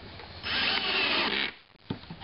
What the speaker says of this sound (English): Okay, that's my drill slipping.